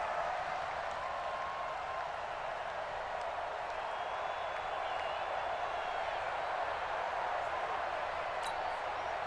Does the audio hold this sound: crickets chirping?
no